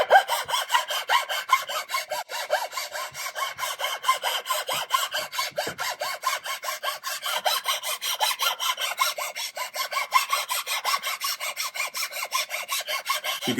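A metal hand file rasps across wood in rapid, even back-and-forth strokes, a close, bright scraping rhythm that continues without pause.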